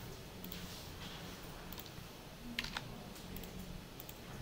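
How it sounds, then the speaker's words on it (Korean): Keys tapped on a computer keyboard for a Ctrl+Shift+Alt+R shortcut in a Java JPA coding session, a few soft clicks with a sharper pair of presses near the end over a faint steady background hum. "컨트롤 시프트 알트를 동시에 누르고 R 누르면 알아서 실행이 되겠죠"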